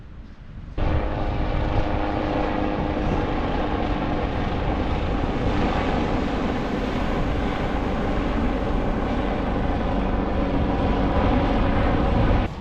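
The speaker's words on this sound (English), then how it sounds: "this beach is also good if you're a helicopter spotter, because there's a helipad just behind me" Loud helicopter flying over Chesil Beach near a helipad at Ferrybridge, its engine and rotor roar starting abruptly and then holding steady and close for over ten seconds.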